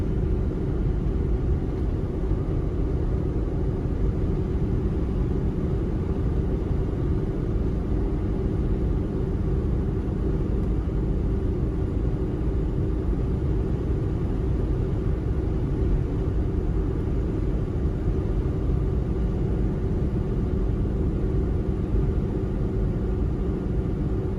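A 2000 Toyota 4Runner with the 3.4 V6 driving, a steady, loud broadband rumble of engine and road noise holding constant throughout with no voices.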